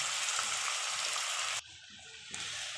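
Chicken pieces fry in hot oil in a pan, giving a loud, steady sizzle that drops away abruptly for a moment and then resumes.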